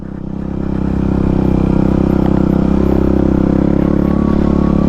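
A supermoto motorcycle on street tires rides off-road, its engine droning loud and close with a steady throbbing pulse that builds slightly and then holds.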